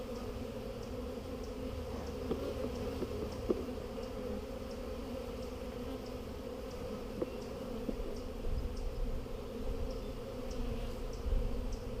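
A dense, continuous hum of agitated honeybees swarming over an opened lower hive box, steady and close with faint individual wingbeats flicking past, no talking.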